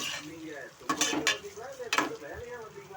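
Onions cooking with salt in a pan give a soft, low sizzle broken by a few sharp scrapes and stirring clatters of a utensil, while faint background music plays.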